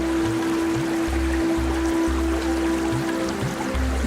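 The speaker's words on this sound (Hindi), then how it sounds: "इस झरने के बाद भी कई अनेक झरने और स्प्रिंग्स मिलकर बरसनी नदी" Stream water flowing steadily beside a waterfall near the Barsani river, a continuous close rushing and trickling wash with no voices.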